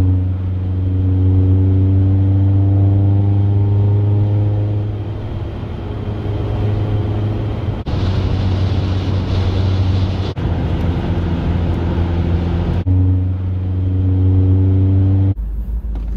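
Car driving with Rhino Rack M626 vortex-generating rubber strips fitted to the roof rack crossbars, a steady loud in-cabin road and wind rumble with a low engine drone that shifts in pitch at a few points, no talking.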